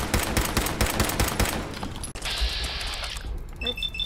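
Rapid gunfire in Fallout 4, fired at a mirelurk's shell, crackles in a quick burst of sharp reports close by, followed by a brief high mechanical whine as the shots stop.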